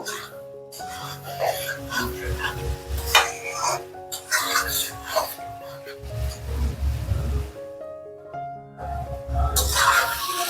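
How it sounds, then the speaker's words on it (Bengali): Spiced potatoes and fish roe, seasoned with salt, turmeric and chili powder, stirred in a pan: intermittent scraping and rubbing strokes in bursts, close by, over a tonal background with a voice at times. "এক দুবার একটু নেড়ে দিয়েছি"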